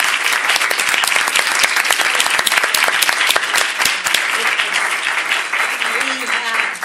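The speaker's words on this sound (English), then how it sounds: "I think they deserve a huge round of applause." Audience applause for panelists at an education forum in Connecticut, a loud, dense ovation from a full room, steady for nearly seven seconds, with voices briefly audible as it tapers near the end.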